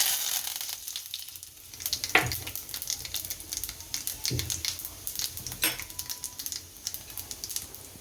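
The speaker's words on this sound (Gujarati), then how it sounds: "હવે જીરું નાખશું, આ હિંગ નાખશું, આ મીઠા લીમડાના પાન," Cumin seeds, asafoetida and curry leaves dropped into hot oil for a Gujarati gram-flour shaak, giving a steady close sizzle broken by a few sharp spattering bursts and light stirring clicks, with no talking.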